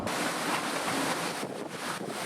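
Strong wind roars and buffets the microphone nonstop, a dense, loud rushing noise with brief dips in intensity, at Pozo during windsurfing training.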